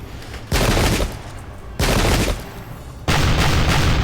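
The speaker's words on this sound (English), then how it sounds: "Not the most effective shots there by the enemy." Enemy musket volleys crack out in the Pike and Shot Campaigns battle game, three loud broadband bursts of massed gunfire about 1.3 seconds apart, each followed by a rumbling tail, with no talk over them.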